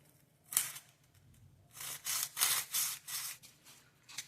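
Cutting strokes through a biscuit (cold porcelain) clay Christmas decoration piece, a quick snip then a run of four or five rhythmic rasping cuts, close and moderately loud with no talking.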